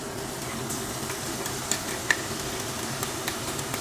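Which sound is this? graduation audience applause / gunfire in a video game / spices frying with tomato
spices frying with tomato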